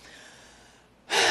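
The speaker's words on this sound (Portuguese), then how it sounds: "É para bufar mesmo, bufar de verdade." A forceful huffing breath during a breathing exercise for dealing with fear, a faint airy exhale that swells into a sudden loud rush of breath at the end, close and alone.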